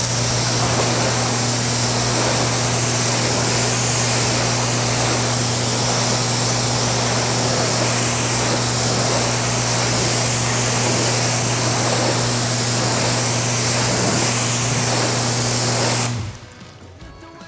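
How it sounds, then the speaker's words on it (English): Pressure washer spraying a row of coated test panels outdoors, a loud steady hiss of water jet with a constant pump drone underneath, running without pause for about sixteen seconds before cutting off abruptly. "All right, let's hit them with the pressure washer."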